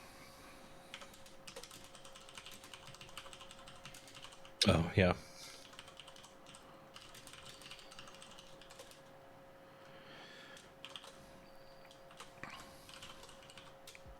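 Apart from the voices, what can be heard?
typing on a computer keyboard while coding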